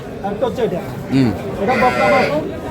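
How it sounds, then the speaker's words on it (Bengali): A heifer calf calls once with a short, rising bleat at a busy cattle market in Noakhali, close by and partly buried under steady, continuous talk from nearby people. "এটা হচ্ছে বকনা বাছুর"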